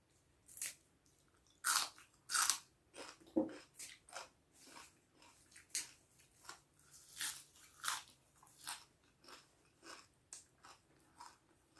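Bull testicles are eaten for the first time, with close, crisp bites and crunchy chewing that come in steady, separate bursts with brief quiet gaps and no talking.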